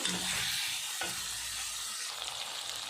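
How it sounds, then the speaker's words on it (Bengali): Meat sautés with turmeric and chili powder in a pan, giving a continuous soft sizzle with occasional stirring scrapes and a brief knock, fairly quiet and close. "দিয়ে ভালো করে আর একটু কষিয়ে নিচ্ছি"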